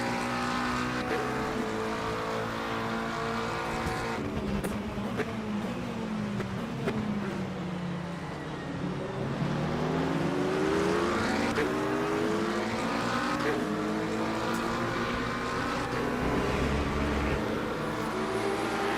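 Race cars in the sim racing game Le Mans Ultimate, a dense field of engines roaring and shifting pitch as the pack passes after a start, loud and continuous with layered rising and falling engine tones.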